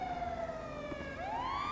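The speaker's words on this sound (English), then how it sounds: "cycle your sirens, please." A police car siren in a video game wails with a continuous rising and falling sweep, loud and close, with no voices over it.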